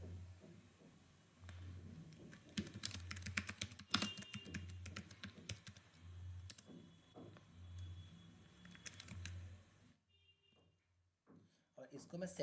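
Someone types on a computer keyboard while writing HTML code, producing quick clusters of close, crisp key clicks and pauses, with someone speaking through most of it.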